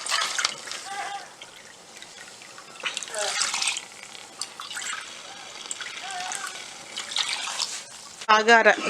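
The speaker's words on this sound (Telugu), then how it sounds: "3 కప్స్ వాటర్ పోసుకొని కలుపుకోవాలి" Water poured over soaked basmati rice in a pressure cooker splashes and trickles in uneven bursts, followed by stirring and a brief sharper clatter near the end.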